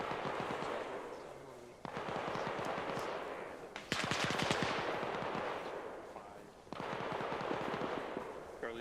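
Rapid machine-gun bursts in a military shooter during squad training, three long sustained volleys of automatic fire separated by brief pauses, loud and continuous, with a faint voice underneath.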